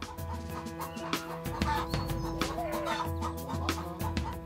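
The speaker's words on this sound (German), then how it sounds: "Es sind Warren-Hühner, um genau zu sein." Warren hens cluck steadily in a large flock of 660 birds on a free-range egg farm, a busy overlapping chorus of clucks and murmurs with no talk.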